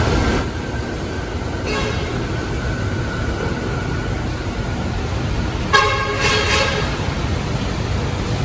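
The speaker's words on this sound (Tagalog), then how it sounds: "Ayan po ay MRT3 bound for North EDSA in Quezon City." MRT-3 train bound for North EDSA in Quezon City rumbles past amid steady traffic noise, with a few horn toots and a louder passing burst near the end.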